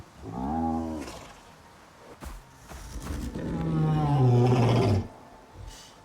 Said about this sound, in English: that's the audio cue for a bear